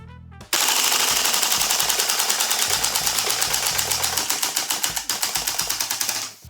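A TM Type 89 airsoft gas rifle fires a long full-auto burst from a 30-round magazine, a rapid, even, close rattle of shots that tapers off as the magazine runs dry.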